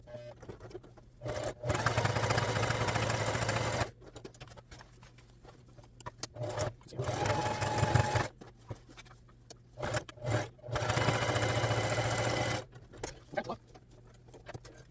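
Sewing machine stitching a patch onto a Reebok jersey, running in several bursts of a few seconds each with quiet gaps between, fairly soft over a steady low hum.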